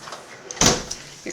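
Front door of a house opening or closing: one brief, dull thud with a short rattle, close and moderately loud amid quiet room sound.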